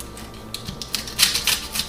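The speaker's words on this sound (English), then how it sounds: "just start that off by chopping up some veggies" Quick knife chops on a cutting board as vegetables are cut up for a sausage stir fry, irregular taps that start sparse and grow faster and louder, with no talking.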